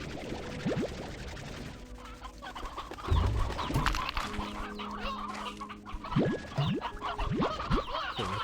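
Hens in the Slime Rancher game cluck repeatedly, several short squawks and clucks scattered over a busy background with bouncy game sounds, no talking.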